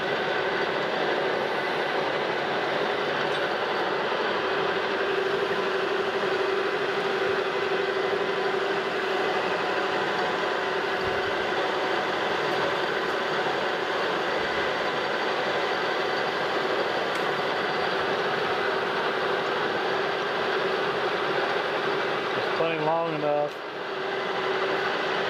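Metal lathe turning a steel blank held in a four-jaw chuck, a steady close mechanical whir with a constant tone throughout, a brief shift and click near the end.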